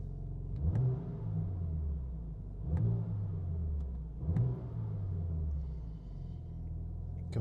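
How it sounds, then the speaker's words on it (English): Engine revving in a stationary BMW M4 Competition parked inside a gym: three sharp blips, each rising quickly then sliding back down, over a steady low idle rumble with no talk. "You can feel the whole car rock as you rev that"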